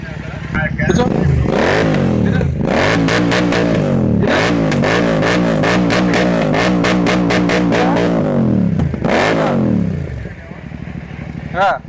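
A nearby motorcycle engine with a silencer not original to it revs repeatedly, rising and falling in bursts over a steady rumble, then idles down; a voice briefly speaks in between.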